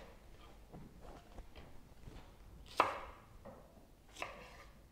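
Fresh onion is chopped with a knife on a board, giving soft scattered taps and a couple of sharper knocks, quiet and close in a home kitchen.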